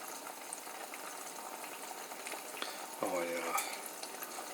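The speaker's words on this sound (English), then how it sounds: "can see that they're sizzling and cooking at the same time" Eggs frying in a pan for butter egg muffins, a soft steady sizzle and crackle at low level, with a brief voice or tone breaking in near the end.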